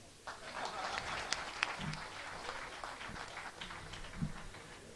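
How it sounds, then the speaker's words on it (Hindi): An audience at a Hindi poetry or speech event claps at a moderate distance, a diffuse patter of hands rising after a quiet start and holding steady, fairly soft throughout. "आप लोग एक बार ढंग से ताली बजाओ।"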